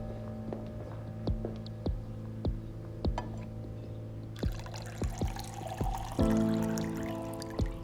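Water poured into a drinking glass, a short splashing pour that swells near the end, set against soft background music with faint periodic ticks and no speech.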